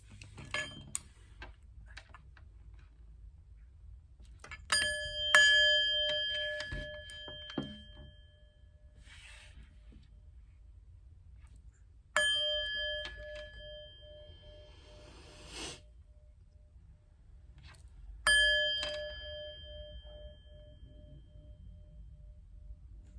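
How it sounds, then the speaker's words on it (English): Chimes struck three times in separated bursts, each a bright ringing cluster of metallic tones that decays slowly, with a few lighter tinkles between strikes in an otherwise quiet room. "But first, let's chime."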